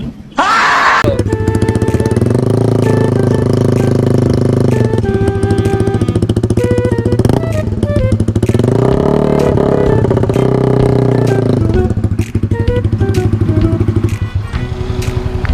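A Honda Sonic 150R motorcycle engine is revved hard and repeatedly up close, swelling and dropping in pitch with a raspy, tinny edge at high throttle, loud and continuous with no voices.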